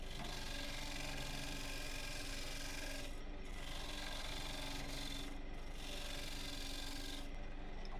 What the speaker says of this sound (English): use an ordinary diamond parting tool just to take out the bulk of the wood